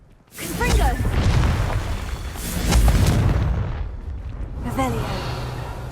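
Confringo blasting spell explosions in Hogwarts Legacy, two heavy booming blasts with rumbling tails around a brief pause, alongside short spoken spell casts and exertion voices.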